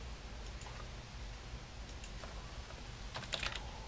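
Computer keyboard typing of a username and password at an administrative login, a few quiet, scattered keystroke clicks in short bursts over a faint background hum, with no talk.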